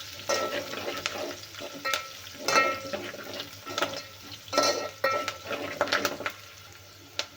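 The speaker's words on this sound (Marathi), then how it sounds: "आता घालूया कढीपत्ता कढीपत्ता पण छान भाजून घ्यायचा आहे" Curry leaves sizzle and crackle in hot oil in a pan, with bursts of frying mixed with the scrape and clink of a spoon stirring against the metal, close and moderately loud, with no talking.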